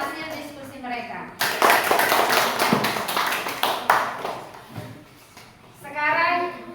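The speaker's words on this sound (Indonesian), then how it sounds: "Berikan tepuk tangan juga untuk kelompok 1 yang sudah mempresentasikan hasil diskusi mereka" Classroom applause for a student discussion group after their presentation, a few seconds of dense clapping from many hands between children's voices and talk.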